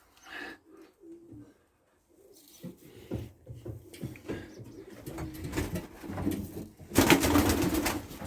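A pigeon in its nest gives soft, low coos in short phrases, faint at first and growing fuller and closer, ending in a louder burst of rustling and movement.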